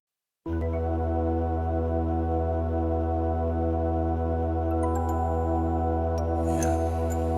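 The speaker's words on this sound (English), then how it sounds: "It's actually a professional Roland synth that was super duper expensive" Synthesized 1990s game music from a Roland MT-32 sound module plays as sustained, organ-like chords, steady and fairly loud, with a brief brighter accent near the end.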